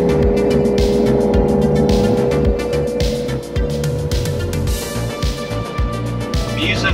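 A John Deere 35G compact excavator with a 24-inch dig bucket rumbles loudly up close, its diesel engine droning steadily under repeated clanks and hydraulic strain as it digs, with someone talking over it.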